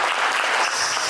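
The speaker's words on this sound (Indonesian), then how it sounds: "Tepuk tangan Mbak" Steady, dense applause from a seated audience at a school seminar, loud and even with many hands clapping together at close range, no speech over it.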